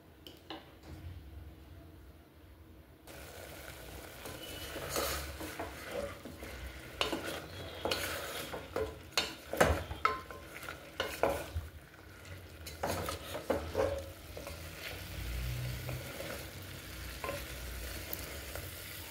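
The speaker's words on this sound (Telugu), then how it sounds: "ఈ వాటర్ ఏదైతే వచ్చిందో ఇదంతా డ్రై అయ్యే వరకు ఫ్రై చేసుకుందాము." Chicken frying in a pan while a spoon stirs it, the moisture cooking off, giving a steady sizzle with repeated scraping and clinking of utensil against metal, close and fairly loud, with no talking.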